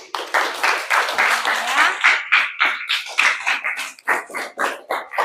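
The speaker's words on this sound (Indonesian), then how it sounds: "Oke, tepuk tangan dulu nak." A class of students claps together in a school classroom, a dense run of sharp, uneven hand claps rising and falling in quick bursts, close and loud throughout, with no talking over it.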